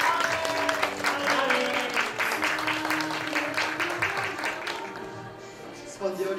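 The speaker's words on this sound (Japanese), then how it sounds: "皆さん拍手で迎えてあげましょう。" Steady applause fills a graduation ceremony, a continuous crowd clapping that slowly fades, with a voice sounding over it.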